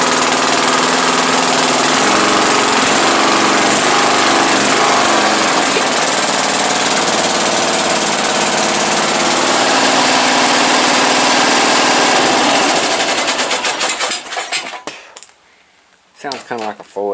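A Briggs & Stratton 14.5 engine runs loud and steady with a buzzing, mower-like drone on a test carburetor, then sputters, cuts out briefly and catches again near the end.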